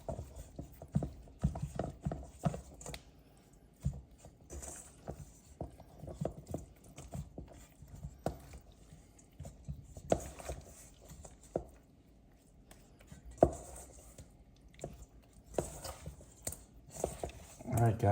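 Raw fish tossed with Old Bay seasoning in a bowl, a continuous close, wet, rhythmic patter and squish of mixing with brief pauses.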